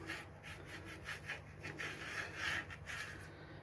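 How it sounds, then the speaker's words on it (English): Soft toothbrush scrubbing coralline algae off the glass of a used Red Sea Reefer XL200 reef tank, a quiet rhythmic scratchy rubbing in repeated short strokes, close and alone. "I've just taken just a soft toothbrush and got most of the coraline off"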